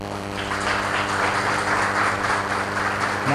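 Applause from an audience at a spiritual gathering, a steady dense clapping wash lasting a few seconds, with a sustained musical tone underneath.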